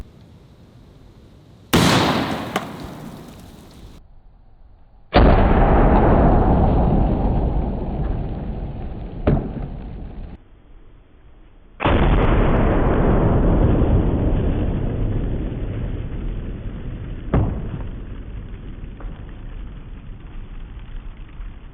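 A .50 BMG round fired from a shotgun at frozen watermelons outdoors, heard as a few loud, abrupt booms, each trailing off into long rumbling decay, spaced several seconds apart with no talking.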